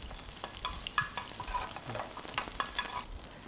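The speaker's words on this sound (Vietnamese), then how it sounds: "Sau khi chúng ta đã xào thơm cái quả ô liu" Salted olives sautéing in a frying pan, a soft steady sizzle broken by repeated scraping and stirring clicks, close and moderately quiet with no voices.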